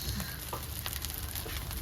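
Fried rice frying in a hot pan, a steady broadband sizzle that holds for about two seconds at moderate, even loudness with no talk over it.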